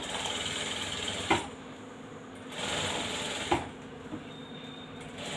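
A sewing machine stitches along the piping edge of an embroidered blouse, running in two steady whirring bursts with sharp clicks as each run starts and a softer tick near the end, heard alone at a close range.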